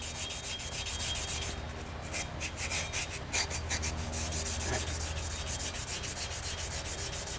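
Steady, close abrasive scrubbing strips rust from a kettlebell handle down to bare metal, a continuous rasping rub with faster back-and-forth strokes in the middle, no voices.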